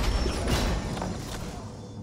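A machine gun in the shooter game Valorant winds up with a dense mechanical whirring and grinding rush. It is loud at first, then eases slightly and holds steady throughout.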